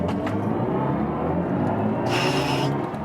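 BMW i4 M50 electric sedan accelerating hard in boost mode uphill, with a steady, loud synthetic drive-sound hum and rumble filling the cabin, rising in a brief brighter tone near the end.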